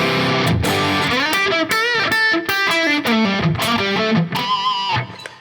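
Electric guitar run through a Tech 21 Richie Kotzen OMG pedal with its gain boost turned all the way up, giving loud, driven chords and sustained notes that ring out over about five seconds before fading, with no voice heard.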